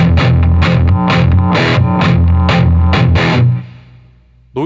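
Electric guitar played through a Bogner Ecstasy mini overdrive pedal with its boost engaged, giving loud, saturated, distorted chords struck in a steady rhythm for about three and a half seconds before ringing out and fading.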